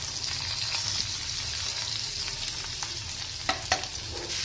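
Chopped onion fries with cumin seeds, curry leaves and green chilies in a pan, sizzling continuously under brisk stirring, with a couple of sharp spatula taps near the end.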